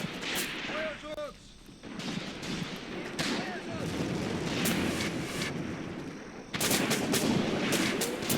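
Rifle and machine-gun fire crackles through a World War II battle in Graviteam Tactics: Mius Front, with repeated sharp shots and heavier booms at varying distance, nearly continuous, with a burst of louder reports near the end.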